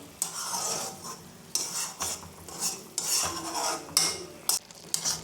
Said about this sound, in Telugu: ఇలా ఉడుకుతూ ఉంటుంది, మనం కలుపుతూ దగ్గర కనాలి